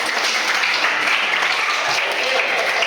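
Schoolchildren in a sixth-grade class at an elementary school clap together after a breathing exercise, a steady dense patter of many hands filling the whole stretch, with some voices mixed in.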